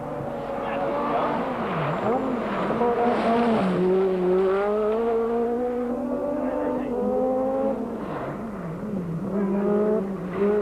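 Rally cars from 1986 Rally New Zealand on the Riverhead Forest special stage, engines revving hard and rising through the gears, loud and close, with someone narrating over them.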